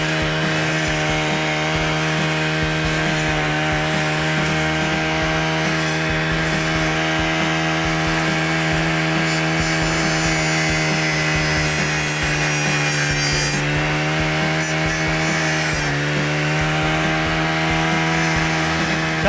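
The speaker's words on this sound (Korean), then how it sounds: "자, 나무를 한번 잘라보도록 하겠습니다." A brush cutter fitted with a cutting blade works through acacia wood, its engine droning loud and constant at close range while the pitch sags and recovers as the blade bites into the branch.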